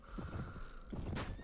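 A horse in the video game Mount and Blade: Warband neighs loudly and close by over a busy layer of background effects, one whinny lasting about a second.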